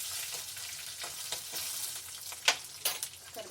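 Dry red chillies, cut into pieces, sizzling and crackling in hot frying oil for coriander chutney seasoning, a steady close hiss with sharp pops and a few stirring sounds.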